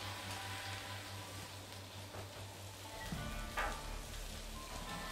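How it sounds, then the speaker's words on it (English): Steady, fairly quiet sizzling of bell peppers frying in oil, crackling continuously with a low hum in the background. "They are sizzling."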